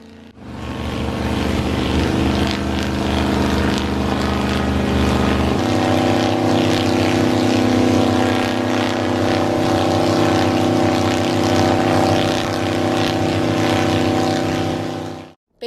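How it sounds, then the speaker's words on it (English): V8-engine-driven propellers blast hurricane-force wind, from about 70 up to 115 mph, at a vinyl privacy fence four feet away, a loud steady engine-and-propeller roar that shifts pitch partway through and runs without any voice. "To create a concentrated wind load, the propellers were placed 4 feet from the fence panels."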